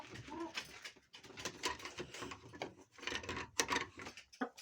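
A young chicken, a tall, fast-growing bird, tries out its first crowing calls with short, wavering squawks, mixed with nearby scratching and rustling.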